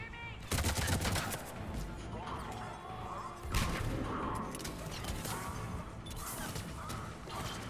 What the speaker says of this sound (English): Why is everyone always shooting me?